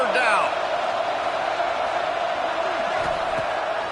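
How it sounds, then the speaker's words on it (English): Dense roar of a football stadium crowd cheering for Texas Tech on a third down, a steady loud wall of noise with whoops and a voice or two rising above it. "The crowd electric, trying to help Tech on this 3rd down."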